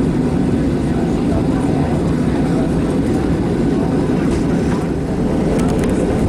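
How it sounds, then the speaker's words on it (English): Passenger jet engines on a plane in Crete rev up to a loud, steady roar heard from inside the cabin, a constant broadband drone filling the whole stretch. "35 minutes late and the engines are now finally revving up."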